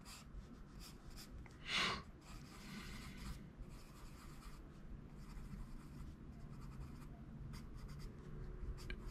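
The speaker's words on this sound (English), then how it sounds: "I can hear it stroking on the page a little bit louder than the other pencils did." A Sanford Design ebony pencil strokes across paper in a quiet series of short scratchy rubs, one louder stroke early on, close and soft with no voices.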